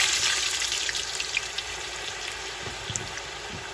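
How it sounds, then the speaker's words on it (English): Potatoes submerged and deep frying in hot oil in a cast iron skillet; a continuous bubbling sizzle with scattered pops and crackles, close and steady, no voices. "So we're gonna submerge all these potatoes in here. It takes about probably 9 to 11 minutes to cook them, deep fry them"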